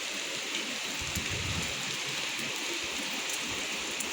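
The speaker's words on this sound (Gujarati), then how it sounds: "ધોધમાર વરસાદ ચાલુ થઈ ગયો છે." A heavy downpour drums steadily over the Vasna Jivraj Park area of Ahmedabad, a dense, constant hiss of rain on surfaces with no voices and no letup.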